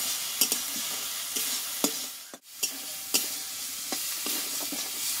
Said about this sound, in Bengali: মশলাটাকে ভালোভাবে একটু আমি কষিয়ে নেব